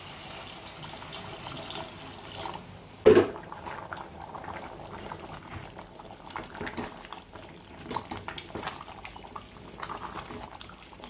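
Water starts pouring with a sudden splash into a pot of rice, then keeps running and gurgling steadily, fairly close and moderately loud.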